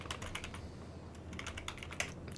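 Rapid keystrokes on a computer keyboard while typing a search during a Cities Skylines session, a fairly steady run of light clicks over soft background hum, no voices.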